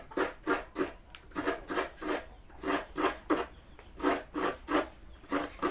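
Coconut meat scraped on a sharp grater, a rhythmic series of about a dozen close, raspy strokes in a steady back-and-forth cadence, with no talking.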